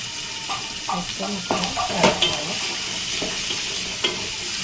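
Green chillies and onions, with a little cumin, sizzle steadily in hot oil, with occasional spoon-against-pan stirring clinks rising over the continuous frying hiss.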